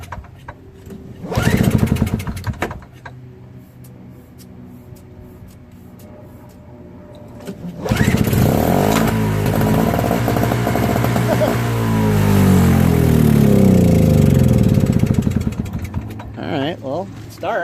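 A Craftsman 5HP single-stage snow blower with a Tecumseh engine on full choke gets a couple of quick rattling pull-start tugs, then fires and runs loudly and steadily at close range for the rest of the clip.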